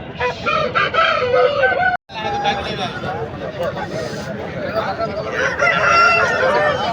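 A Kaki-teka rooster crowing at a country chicken market in Mydukur. Loud, close, drawn-out crows ring out over busy market chatter and voices, with a short break partway through.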